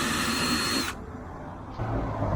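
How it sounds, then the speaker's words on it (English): Power drill pre-drilling a taped hole for a Can-Am Spyder chrome trim upgrade, a steady close whine that cuts out partway and then resumes at a lower, rougher pitch. "Always pre-drill it, tape it, just to try to keep it from cracking"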